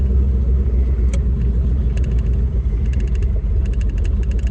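A cheap, older Chevrolet Corvette drives with a steady deep engine rumble and road roar heard from inside, broken by a few faint rapid ticking or clicking bursts.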